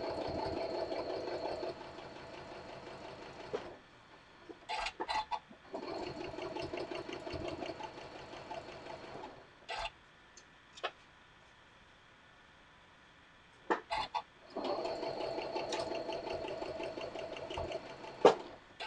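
A sewing machine stitches quilt blocks in steady mechanical runs, pausing several times between bursts with a few clicks and handling noises in the gaps, fairly close and with no talking.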